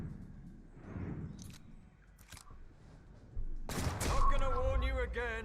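Gunfire from the video game Mutant Year Zero (Garden of Jyko DLC) cracks out in a loud burst near the end, after quieter scattered shots and background game sound, with speech-like game noise underneath.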